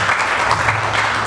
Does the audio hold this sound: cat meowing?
no